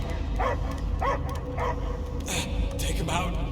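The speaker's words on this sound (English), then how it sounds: "I hear only barking." Dog barking in the Guardians of the Galaxy video game, several loud close barks and yips spaced across the moment, mixed with game background noise and scattered voices.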